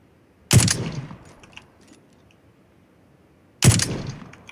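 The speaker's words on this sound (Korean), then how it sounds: "소음기라서 모르는 것 같은데? 총소리는 들릴걸요? 가까워가지고." Two sharp, loud bursts of suppressed gunfire from nearby in PUBG: Battlegrounds, a few seconds apart. Each is a short crack that trails off into a brief rumble, with near-silence between.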